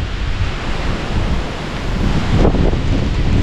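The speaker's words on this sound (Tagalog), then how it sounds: "Ay, lakas ng hangin oh." Strong wind blows outdoors and buffets the microphone with a steady, loud rushing roar that swells slightly near the end.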